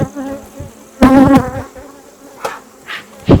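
Honey bees buzz around an open hive during an inspection, a steady insect hum with louder, closer swells as individual bees fly near, strongest around the first second and again at the end.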